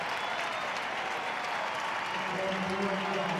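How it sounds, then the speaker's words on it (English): A large crowd at a show jumping event breaks into sustained, loud applause and ovation, steady clapping and cheering filling the whole stretch while a commentator's voice speaks over it. "What an ovation he gets here from this crowd."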